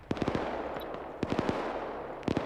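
An M134 minigun fired by a vehicle gunner in a video game, heard as three short, rapid bursts of sharp shots separated by brief pauses.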